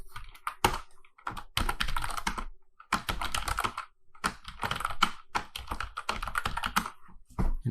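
Typing on a computer keyboard, close-up clattering bursts of keystrokes separated by short pauses, with no voices.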